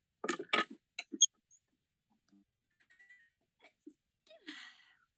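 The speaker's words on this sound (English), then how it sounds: "By the way, he sneezed for anybody listening." A man sneezes sharply twice in quick succession, close and clear, followed by a few faint sniffs and small rustles in an otherwise quiet room.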